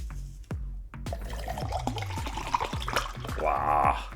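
Water poured into a container with Tang tropical powdered drink mix, a close gurgling pour with small splashes and glugging that builds toward a fuller bubbling fill near the end.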